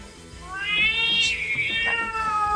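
A cat meows and yowls in a drawn-out, rising and falling cry, loud and close, with a second shorter wail following.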